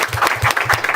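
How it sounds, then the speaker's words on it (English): An audience at a talk on low carbon technologies claps for a presenter, a brief, loud patter of hands with a quick, uneven rhythm, close and clear. "So please give him a round of applause"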